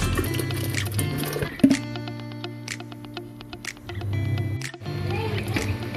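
Half a kilo of washed, cut potatoes goes into a pot of boiling water, with wet splashes and plops over a bubbling simmer and some clinks.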